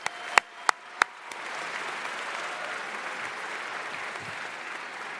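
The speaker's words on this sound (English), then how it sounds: "Give our class of 2028 another round of applause." A crowd at a middle school closing ceremony breaks into sustained applause after a few sharp early claps, steady clapping filling the room with no talk over it.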